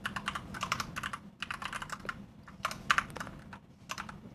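Rapid typing on a computer keyboard at close range, a steady run of light key clicks in short bursts with brief pauses, no voices.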